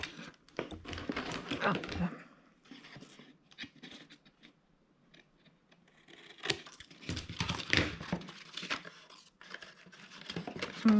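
Paper being cut by hand for a homemade binder, a run of crisp tearing and crinkling bursts in two busy clusters separated by a quieter stretch of light handling, close and moderately loud, with a brief voice.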